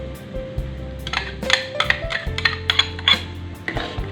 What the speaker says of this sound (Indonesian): Aduk semuanya sampai tercampur rata